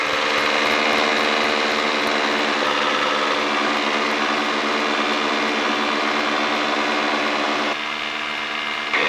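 Twin radial piston engines of a WWII-era Douglas C-47 transport run at steady high power, a loud, dense, continuous drone with a rhythmic propeller beat that shifts slightly near the end.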